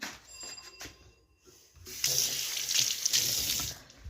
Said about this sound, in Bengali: ধরো হাত ধুয়ে নিই।